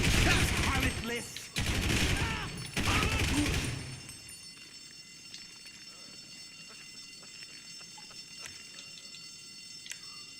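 Bursts of gunfire from a GTA 5 Online shootout at a salvage yard, loud and dense for about four seconds, then dropping to quiet ambient game sound with faint scattered clicks.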